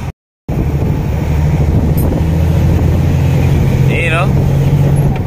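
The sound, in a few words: injection pump type car engine running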